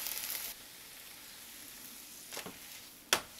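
Sweet crepe batter cooking in a frying pan, a quiet steady sizzle with a brighter burst at the start and a couple of short scraping flicks near the end.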